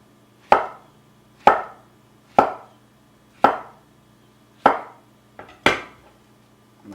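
A knife cuts through ripe plantains on a cutting board, slicing them into quarter-inch rounds: six crisp, evenly spaced chops close up, each a sharp thud with a brief tail, in a quiet room.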